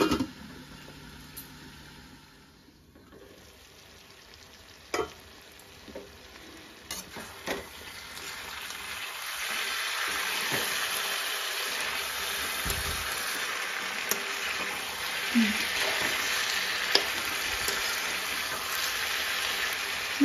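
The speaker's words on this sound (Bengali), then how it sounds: "মোটামুটি মাংসটা সাতলামি হয়ে গেছে।" Chicken with bamboo shoot sautéing in a pan: steady broadband sizzle that swells and holds through the second half, with occasional stirring clicks and scrapes, close and moderately loud, no talk.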